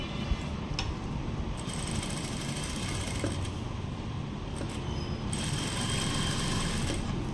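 A sewing machine stitching a fall onto a saree runs in a steady, continuous mechanical whir close by, with a few faint clicks and no talking.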